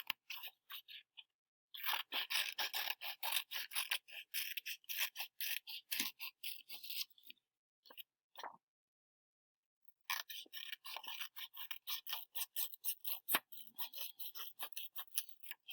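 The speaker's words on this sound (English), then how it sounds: "I'm just going to cut out my red feather here." Scissors snip through paper while cutting out a red paper feather, giving quiet, rapid crunching cuts in bursts with short pauses between.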